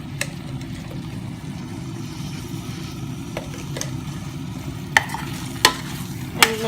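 Mee curry frying in a pan and being stirred, a steady sizzle under a few sharp scrapes and clinks of the utensil against the pan near the end, with no talking.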